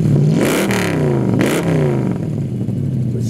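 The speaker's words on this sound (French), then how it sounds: "Démarrons ensemble une Ford Mustang." A Ford Mustang engine starts and revs, a loud, close growl sweeping up and down through two quick throttle blips before settling to a rough, burbling idle.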